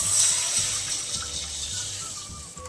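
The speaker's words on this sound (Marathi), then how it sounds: "डाळीचं पाणी काढलेलं हे आता ह्याच्यामध्ये टाकून घेऊया" Dal water poured into a pan of hot oil with kokum for katachi aamti, a continuous rushing, splashing pour that stays fairly even throughout, with no voices.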